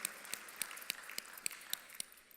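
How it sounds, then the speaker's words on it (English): An audience at the Jamaica Agri-Business Investment Forum gives faint, distant applause, with a few separate claps popping out at a steady rhythm over a soft wash of clapping. "the team here deserves a big, rousing round of applause"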